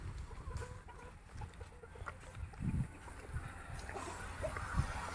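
Farm chickens clucking faintly at a distance amid a busy outdoor background, with a few soft bursts, no speech over them.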